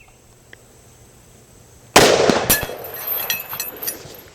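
A single loud rifle shot from a Ruger Model 77 MKII in .264 Win Mag cracks out after a quiet pause, followed almost immediately by a sharp metallic ring from a steel half-silhouette target, then a decaying outdoor echo.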